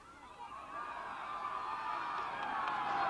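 Displeased crowd at a girls' high school soccer match between University and La Jolla, voices swelling into a sustained, rising roar of shouting and jeering from the sideline.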